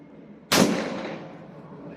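A single loud blast from a 12-gauge break-action shotgun with an 18-inch barrel firing a 70-pellet shell outdoors, a sharp crack followed by a long decaying rumble, with no talk.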